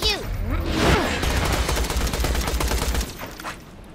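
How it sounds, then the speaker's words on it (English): Skeleton enemies open fire in Borderlands 2's Tiny Tina's Assault on Dragon Keep, a loud rapid volley of gunshots and crackling blasts lasting about three seconds before fading into scattered shots. "They start shooting at you!"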